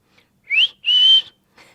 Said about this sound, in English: The other things which I blow air from my mouth are for whistling.